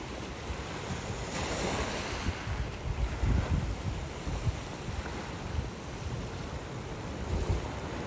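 Big ocean waves roll onto the beach at Waikoloa Village, Hawaii, giving a steady rushing surf with heavier crashes swelling now and then, plus light wind noise.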